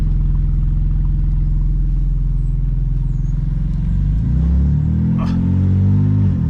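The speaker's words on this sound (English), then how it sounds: "this is open dump. Straight out the turbos, basically." Turbocharged BMW engine rumbling through an open dump exhaust straight off the turbos, a deep loud idle burble that swells into a throatier rev near the end, with a brief whoosh and no talking.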